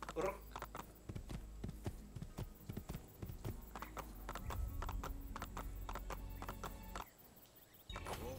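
Horse hooves clip-clop in a steady, quick rhythm on a stone street in Renaissance Venice in Assassin's Creed 2, with a short whinny near the start and a brief pause near the end.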